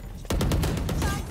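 Killjoy's turret firing in Valorant, a rapid burst of gunfire shots in quick succession, loud and close, lasting about a second over steady game background.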